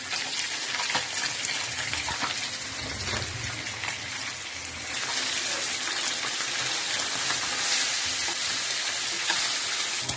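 Barbel fish fries in hot oil in a home kitchen, a steady dense sizzle that swells louder midway and keeps crackling throughout, with no talking.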